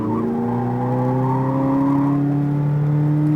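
A Corvette Z06 accelerates hard on a race track at SpeedVegas, its engine note climbing steadily in one loud, continuous pull heard from inside the car, with no talking.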